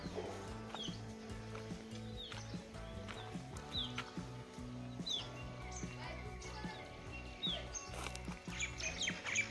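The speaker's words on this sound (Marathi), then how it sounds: "पक्ष्यांचा आवाज ही सकाळ सकाळ फ्रेश वाटते एकदम" Scattered bird chirps and tweets sound off in the distance over a busy background of clip-clopping hooves and low rumble.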